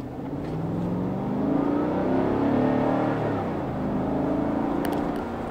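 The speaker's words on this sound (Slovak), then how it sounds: "ten zvuk, ten bublot 8 válcov spod prednej kapoty je niečo prudko návykové" Cadillac Escalade V8 accelerating: a deep, burbling engine note rises and swells as the throttle opens, peaks, then eases into a steady drone, loud and close with no talk.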